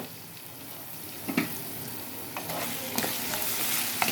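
Potatoes and tomatoes frying in a pan with onions for an egg curry, a steady sizzle with a few scattered stirring clatters and no talk.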